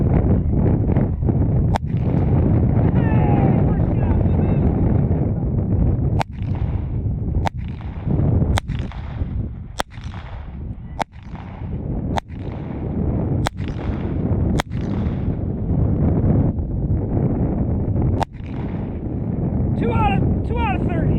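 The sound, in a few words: Walther P22 pistol shots at 50 yards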